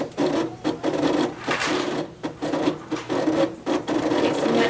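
Cricut cutting machine running its blade over cardstock on a mat, a close, loud whirring and scraping motor sound pulsing in repeated short passes with brief pauses between strokes.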